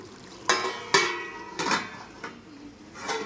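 A metal lid is set onto a cooking pot of chicken curry simmering on low heat, giving several sharp clanks and knocks at uneven intervals, close and fairly loud.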